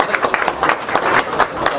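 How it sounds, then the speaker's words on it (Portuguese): Applause from an audience greets the unveiling of a commemorative plaque in the Salão Nobre of the Beneficência in Araraquara, a steady patter of many hands clapping at moderate distance with no talk over it. "foi descerrada ao som de aplausos"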